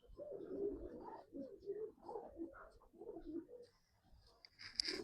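Pigeons cooing at close range, with soft repeated throaty coos rolling on continuously and a few brighter chirps near the end.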